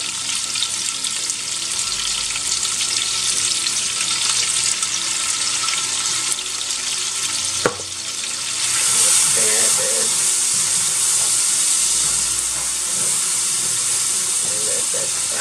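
Blended Scotch bonnet peppers going into goat meat as it cooks for spicy asun, giving a steady loud sizzling hiss with a brief thump partway through, after which the frying grows slightly louder.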